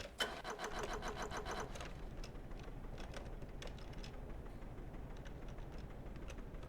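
A vehicle winch in Stormworks reels out with a fast, steady mechanical rattle that starts loudly and then settles into a continuous whirring drone, close and unbroken for several seconds.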